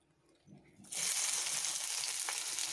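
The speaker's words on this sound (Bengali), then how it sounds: "সব কিছু একসাথে ভেজে নেব।" Stuffing of ground lentils and rice hits hot mustard oil for bitter gourd filling, starting with faint clatter, then breaking into a loud, steady, close sizzle that holds to the end.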